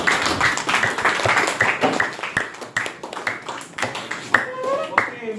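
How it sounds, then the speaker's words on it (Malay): A class clapping hands, a scattered round of individual claps close by with uneven rhythm, thinning out toward the end with some voices mixed in. "Beri tepukan."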